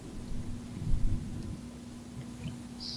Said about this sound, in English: that's about when the thunder and rain started